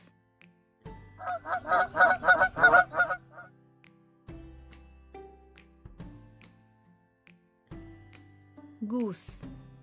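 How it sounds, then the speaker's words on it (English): A goose honks in a rapid, loud run of calls near the start, followed by a few fainter, scattered honks and a final rising call, with no talk over it. "goose,"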